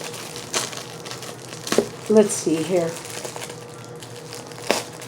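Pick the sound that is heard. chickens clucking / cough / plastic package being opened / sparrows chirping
plastic package being opened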